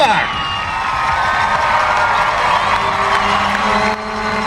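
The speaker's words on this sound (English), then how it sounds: "let's listen to the ovation here for Abby" A stadium crowd at a WPS women's soccer all-star game roars with sustained cheering and whoops for a favourite player, a broad continuous wash of many voices with scattered applause underneath.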